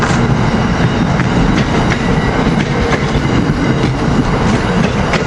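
ACS-64 locomotive 612 leads Northeast Regional train 193 south through Cornwells Heights, a loud, close, steady rumble of passing cars with rhythmic clickety-clack from the wheels on rail joints.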